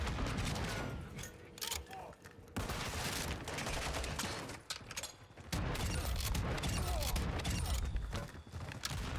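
Gunfire in the video game DMZ, with rapid bursts and sustained volleys layered over a dense, noisy game soundscape, fairly loud and close throughout.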